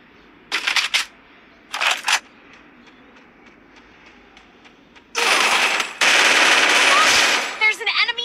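Gunfire in the Free Fire mobile battle game, two short automatic bursts early on, then a long loud sustained burst of rapid shots near the end, with game audio between.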